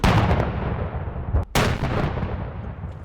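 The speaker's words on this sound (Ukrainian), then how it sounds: "лондонський резервний полк влаштував святковий артилерійський салют" A ceremonial artillery gun salute in London: a heavy blast booms loudly, its rumble rolling and echoing, followed by a second sharp report midway that decays into a long outdoor reverberation.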